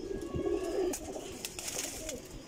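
Soft cooing of highflyer pigeons in Lahore nearby, a low throaty call followed by a quieter second coo, over light background noise.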